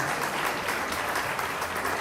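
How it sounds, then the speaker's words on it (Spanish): Steady applause from an audience at a human rights conference held by a union subcommittee, a continuous even wash of clapping from start to end with no talk over it. "Le pido un aplauso para él, por favor."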